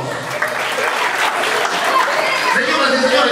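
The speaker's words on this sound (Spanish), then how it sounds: "vamos a brindarle fuertes y calurosos aplausos" Warm, sustained applause fills a primary school graduation ceremony for the 2019 class, a dense wash of many hands clapping steadily throughout with crowd noise mixed in.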